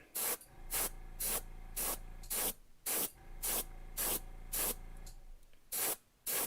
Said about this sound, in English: I'm going to spray just a little bit.